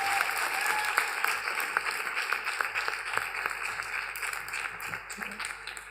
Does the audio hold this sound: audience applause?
yes